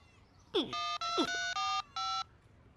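Mobile phone keypad beeps while a text message is typed, a run of four or five short, bright electronic tones in an uneven rhythm, close and clear, preceded by a couple of brief squeaky cartoon noises.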